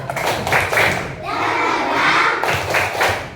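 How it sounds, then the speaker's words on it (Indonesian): Grade 3 schoolchildren in a classroom perform a rhythmic group clap, bursts of hand claps alternating with loud chanted voices in a patterned beat, close and energetic. "Tepuk semangat"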